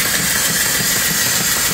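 An antique steam engine running at about 200 RPM at the flywheel, belted to an alternator spinning near 1200 RPM, gives a loud, steady, dense hiss and mechanical rumble close by, with no talking.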